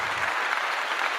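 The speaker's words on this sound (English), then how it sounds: "Where's the applause?" Audience applause breaks out during a livestreamed career Q&A, a brief, dense, even patter of clapping with no talk over it.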